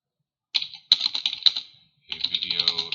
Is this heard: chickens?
no